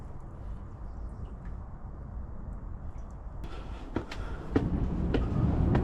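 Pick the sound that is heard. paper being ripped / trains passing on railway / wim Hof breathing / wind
trains passing on railway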